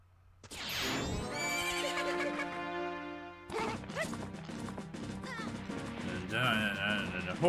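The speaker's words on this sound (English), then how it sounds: "horse adventures, taking a horse journey" A horse in The Legend of Zelda video game gives a long, loud whinny up close, followed by game music, thuds and hoofbeats under a busy soundtrack.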